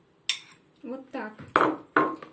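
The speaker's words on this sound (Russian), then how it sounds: "И уже нежненько, осторожно перемешиваем вот так вот до однородной массы нашу пшеничную закваску." Wheat sourdough starter is stirred in a bowl, a series of four or five distinct clinks and scrapes of a utensil against the bowl, close and fairly loud.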